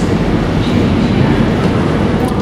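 A Moscow Metro subway train rumbles loudly and steadily, a dense continuous roar of wheels and carriage noise filling the whole stretch without pause.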